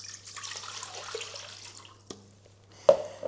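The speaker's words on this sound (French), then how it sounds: "Hop, donc je vais mettre mon eau." Tap water running into a cooking pot meant for potatoes, a steady hiss of pouring for about two seconds, then a knock and a louder clunk of the pot being handled.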